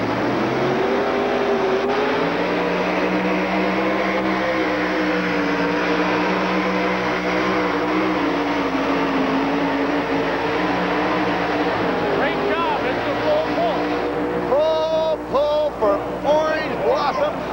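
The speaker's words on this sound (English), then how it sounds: "Leaned the motor out just a little bit when the front end came up, but it was still enough to give him the full pull mark for Alan Gaines." A pulling vehicle's engine roars steadily and loudly throughout a 1987 USHRA pull run in Minneapolis, a sustained droning howl with shifting pitch, with an announcer's voice and crowd noise rising near the end.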